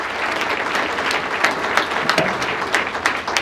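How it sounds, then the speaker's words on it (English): A crowd at a Hispanic heritage community breakfast claps for Casimiro Rodriguez, a close, full burst of many hands with a few sharper individual claps standing out, continuous throughout. "Let's give him another big round of applause."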